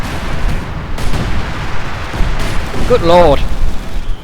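Light artillery barrage in a Company of Heroes 2 battle, a dense rumble of distant shell impacts and gunfire rolling on steadily, with a voice heard briefly over the din.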